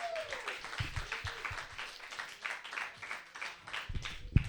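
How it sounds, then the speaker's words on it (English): Scattered applause and a few whoops from a stand-up comedy club audience welcoming a comedian to the stage, moderately distant and uneven, with some low thumps toward the end. "Put your hands together for my friend."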